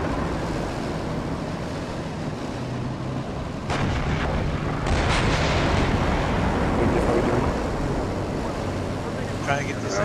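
Tank cannon fire in the Steel Beasts combat simulator: heavy booming blasts land around the middle, with rumble and a long roar after them, over a constant engine drone with radio chatter.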